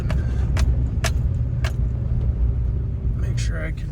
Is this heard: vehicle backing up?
yes